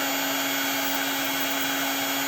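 A hair dryer powered by a WAITLEY PRO Makita-style tool battery runs steadily and loudly, a continuous broadband whoosh with a constant motor hum throughout.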